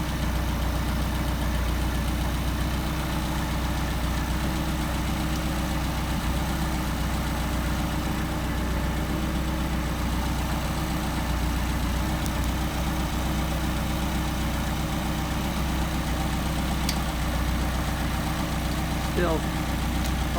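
An engine fitted with a Solex 44PHH carburetor runs steadily on a test stand, a loud, continuous low rumble with an even idle throb throughout and no clear revving.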